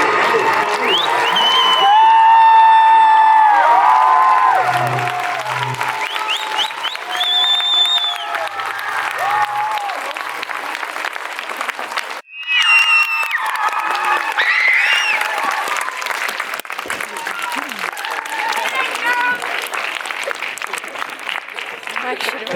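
Standing audience applauding loudly at an Estonian social media awards ceremony, steady dense clapping with cheers, under a host's voice over a PA and brief music, dipping briefly before resuming.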